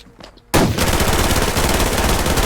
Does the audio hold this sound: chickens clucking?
no